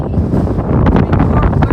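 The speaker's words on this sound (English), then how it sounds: "it's super windy" Strong gusty wind on a mountain summit buffets the microphone in loud, continuous roaring bursts, with no other clear sounds.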